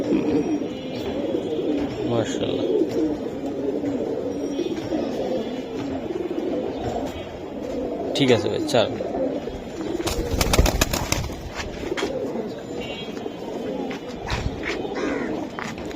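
Silver Giribaz pigeons cooing at a pigeon market, low soft coos repeating beneath a man's chatter, with a brief burst of rustling and wing noise midway.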